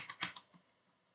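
A web address typed on a computer keyboard: a quick burst of a few soft, close key taps, a short pause, then one more tap.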